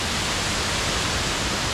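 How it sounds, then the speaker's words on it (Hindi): Kuang Si Falls in the hills of Laos, a steady broadband roar of falling water, continuous and close, with no talk over it. "वो दिख रहा है झरना, ये वाला।"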